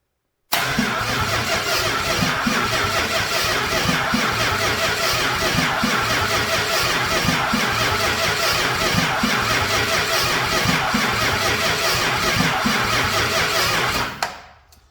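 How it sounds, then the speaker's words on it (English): Old engine cranking over on its starter motor with all spark plugs installed, a steady, loud, rhythmic churning that runs continuously for about fourteen seconds and then cuts off. "Let's see if this old starter can turn this beast over with all the plugs in."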